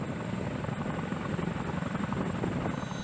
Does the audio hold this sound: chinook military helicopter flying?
yes